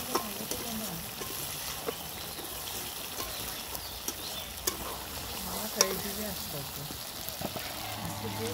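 Chicken curry sautés in a pan in village-style Bengali cooking, with a soft continuous sizzle broken by light scraping and clinking as it is stirred, fairly quiet and close.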